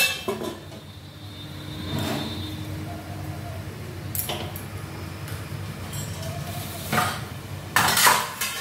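A lid goes onto a cooking pot in a home kitchen with a few light metallic clinks and scrapes, close but soft against a low steady background hum.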